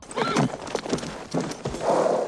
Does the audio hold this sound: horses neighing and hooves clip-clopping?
yes